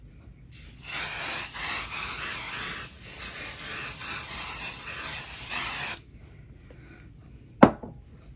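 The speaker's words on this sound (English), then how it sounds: "I like to spray right onto the fabric, not the batting." A long hissing burst of spray adhesive aimed onto fabric, briefly interrupted once, runs for several seconds, followed by quiet and a single sharp click or tap.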